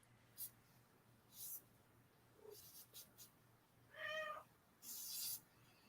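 A cat meows several times in short, separate calls, fairly close and clear against a quiet background.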